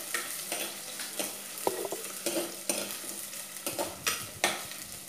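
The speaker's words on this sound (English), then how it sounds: "Stir it well." A spatula stirs Kerala fish curry in a pan on low flame, giving soft repeated scraping strokes over a faint steady sizzle, close and fairly quiet with no talk.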